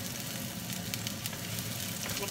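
Chopped onion frying in a pan for pork nilagpad, a soft, even sizzle that hisses steadily throughout, with a few faint clicks and light clatter.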